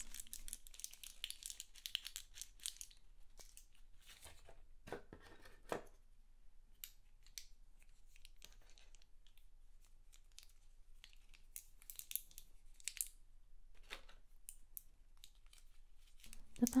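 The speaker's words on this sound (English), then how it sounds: "The packs make great crinkly sounds." Plastic packs of Avon mini perfumes crinkle close up in soft, scattered bursts, with light clicks and rustles separated by quiet gaps.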